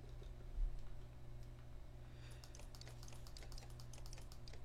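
Small, close computer mouse clicks tap out in a loose run over steady low room hum, with no voices.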